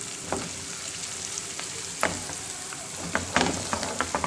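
Crushed spices and dried coriander for a daal chicken tadka sizzle and crackle in hot oil, a steady close fry with sharp pops scattered throughout and no talking.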